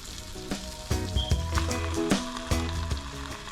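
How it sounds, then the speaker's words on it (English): Steady sizzling and crackling of cheese frying in a hot pan under a flour tortilla, with small pops scattered throughout and a low hum beneath. "Keep on frying that cheese."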